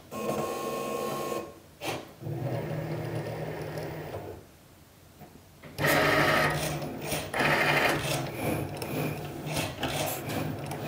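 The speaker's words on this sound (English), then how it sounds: "Once the machine has then accepted the material, we can then press go, and the machine is going to cut out our cake topper." A Cricut Maker 3 cuts a cake topper nearby with whirring motor runs and mechanical ratcheting carriage moves, in bursts separated by short pauses.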